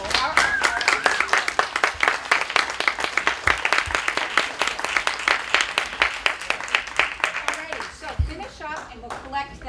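Audience applause for a singer at an opera idol competition in New Hampshire: dense, steady clapping from a crowd that fills the room, then thins and fades near the end as a voice begins.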